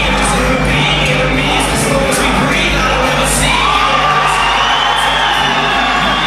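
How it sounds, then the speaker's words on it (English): A packed crowd at an FFC fight event roars, whoops and cheers for a fighter, loud and sustained throughout with high shouts rising above a dense wall of noise. "The crowd have just gone absolutely bananas for him there"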